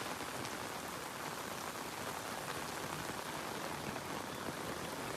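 Heavy rain pours steadily onto a flooded street, a dense continuous hiss with no pauses, loud and close throughout.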